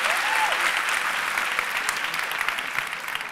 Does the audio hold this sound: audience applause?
yes